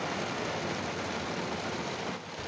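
Steady rain pours outside a film set where actors and crew wait under umbrellas, a dense even hiss holding at constant loudness throughout before easing slightly at the very end.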